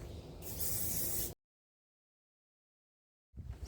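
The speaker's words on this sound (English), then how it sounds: "a little bit of hairspray, not much, a little spray, a little misting" Hairspray misted onto a plastic model part as a primer gives a short, close, steady hiss lasting about a second, followed by silence.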